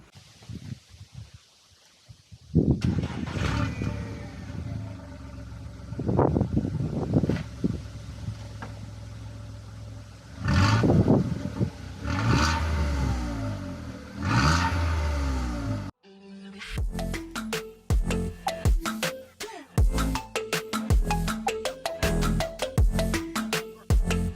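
A Volkswagen Polo engine revs repeatedly with rumbling exhaust bursts, rising and falling, then a rougher stretch of choppy revving toward the end.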